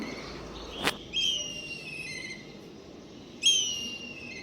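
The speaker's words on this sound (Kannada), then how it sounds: "ಆ ಪಕ್ಷಿಗಳ ಸೌಂಡ್ ಕೇಳಿಕೊಂಡು ಈ ವ್ಲಾಗನ್ನು ಶುರು ಮಾಡೋಣ ಬನ್ನಿ" Clear morning bird calls sound out: a sharp snap, then drawn-out whistling notes twice, separated by a quiet pause, fairly near.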